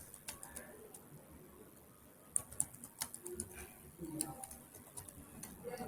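A password being typed on a computer keyboard, a run of quiet, uneven key clicks with a few louder taps, heard close in a quiet room.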